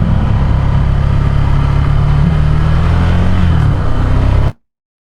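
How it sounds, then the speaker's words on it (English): A Ducati Scrambler 800cc motorcycle engine runs loud and close with a steady, gruff drone and a slight rise in revs before it cuts out suddenly, with no talking. "when you open it full, it has this kind of angry snarl that comes out. It's a lively little engine."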